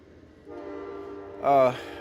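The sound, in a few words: train passing with horn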